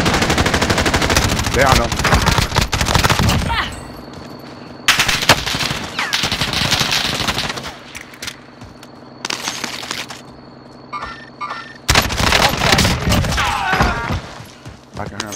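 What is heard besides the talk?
gunfire in video game Call of Duty Modern Warfare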